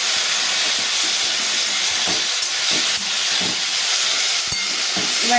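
Potatoes and cauliflower simmer in a little water in a pan, giving a steady close hiss and bubbling sizzle that runs evenly throughout with no talking.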